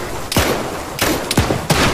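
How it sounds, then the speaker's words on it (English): Grenade and explosive blasts in Arma 3 land as three or four sharp booming thuds about half a second apart, each decaying quickly, loud and close with no talk. "I just got hit by a grenade"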